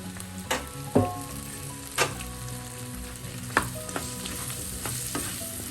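Potato frying in oil for a brinjal potato stir fry makes a constant close sizzle, broken by a few sharp clacks and scrapes of a spoon stirring the pan, with no talk.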